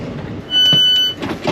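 ScotRail train pulling into Perth station, with a loud steady high-pitched tone sounding for about half a second amid low rumbling running noise and brief clatters.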